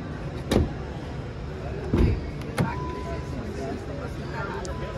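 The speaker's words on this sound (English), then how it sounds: "I'm about to open the door." A car door is opened on a stage at the 2023 New York Auto Show preview: a few short clunks and latch knocks stand out against steady hall hubbub and murmuring voices.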